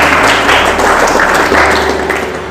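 Church congregation clapping hands together in praise, a brief loud burst of dense applause without speech.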